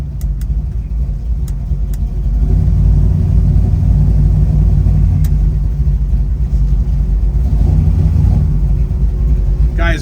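A 1971 Chevrolet Chevelle with a 572 engine rumbles steadily and loud while cruising, a deep continuous growl throughout with a voice over it.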